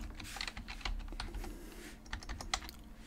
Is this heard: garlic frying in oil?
no